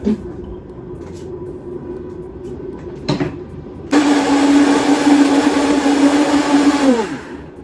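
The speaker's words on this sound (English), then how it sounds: "and then pop that in the blender." A blender whirs loudly, blending a vegan cashew milk matcha protein shake, starting at full speed after a few brief clicks and running steadily for about three seconds before spinning down.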